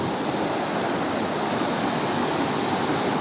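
Foaming water rushes over a small village weir in a loud, steady, continuous roar that stays close and unbroken throughout.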